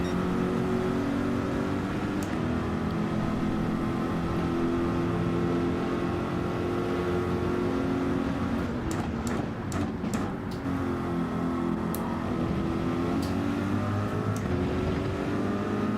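Corvette GT3 race car engine in Gran Turismo at Autopolis, droning steadily and loudly through the whole stretch with rising and falling pitch as it accelerates through the gears, plus a few brief sharp clicks partway through.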